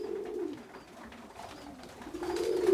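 Pigeons in a breeding loft coo softly nearby, their low rolling calls rising and falling under faint background noise.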